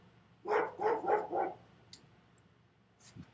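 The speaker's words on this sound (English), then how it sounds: "And I'm sorry about my dog tonight." A dog inside a car lets out four quick, evenly spaced barks, moderately close, followed by quiet cabin background with a couple of faint clicks.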